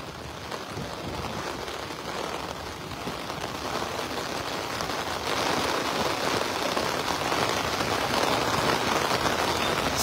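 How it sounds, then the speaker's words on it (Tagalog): Heavy typhoon rain from Typhoon Carina pours steadily beside the Marikina River with a dense, hissing roar that swells slightly louder partway through, with no voices present. "Lakas na naman ng ulan."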